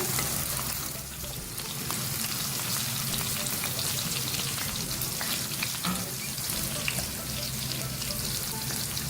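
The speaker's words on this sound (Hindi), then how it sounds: "जैसे भिंडियाँ हमारी फ्राई हो जाएंगी इसको निकाल लेंगे। ये हमारी फ्राई हो चुकी है, लाइट गोल्डन ब्राउन हो चुका है।" Okra frying in hot oil to a light golden brown, a dense, continuous, loud sizzle close by that stays steady throughout with only faint scrapes mixed in, and no voices.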